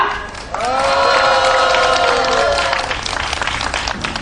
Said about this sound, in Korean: 동지들의 힘찬 박수와 함성으로 시작해보도록 하겠습니다